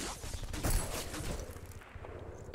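Distant gunfire and explosive bursts from a battle in the shooter game Black, rumbling and dense, with a sharper crack near the end.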